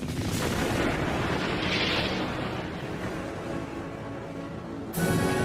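A deep, rumbling explosion roars and slowly dies away, followed by a sudden fresh burst of noise near the end.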